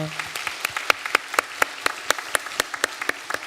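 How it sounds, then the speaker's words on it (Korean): A church congregation claps to welcome visiting families at a year-end Sunday service, a steady run of distinct handclaps over the whole span, moderately close and fairly sparse, with no one speaking over it. "우리 박수로 환영하겠습니다"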